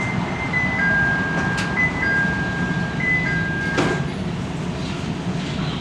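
A CTA Blue Line subway train runs with a steady loud rumble and rail roar, faint squeals and a brief clatter partway through, heard from inside the car.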